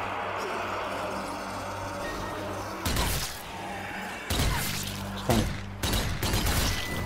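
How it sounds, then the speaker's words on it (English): A grenade tossed at a zombie horde in the Zombie Army 4 video game bursts in a few loud, sharp blasts and thuds over a constant game background, the impacts spaced a second or two apart. "So I'm going to chuck a grenade out here."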